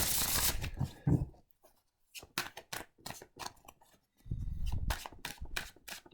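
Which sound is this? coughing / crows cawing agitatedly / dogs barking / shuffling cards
shuffling cards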